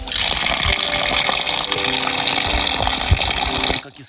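Mountain spring water in Montenegro pours and splashes steadily close by, a continuous gushing rush that cuts off abruptly near the end.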